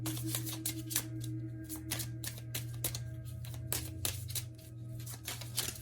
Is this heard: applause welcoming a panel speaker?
no